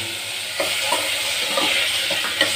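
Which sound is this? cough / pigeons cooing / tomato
tomato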